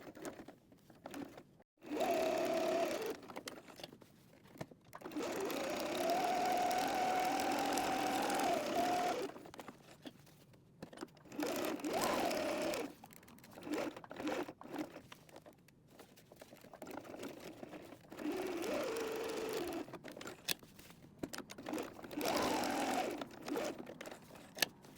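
Sewing machine stitching a canvas pencil pouch, running in bursts of steady whirring with short pauses, slowing as it passes over a thick lump, close and clear with no talk.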